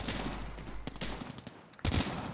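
ICR rifle gunfire in the Call of Duty Mobile video game, heard as bursts of rapid shots with a brief pause before a loud final burst, with no talk over it.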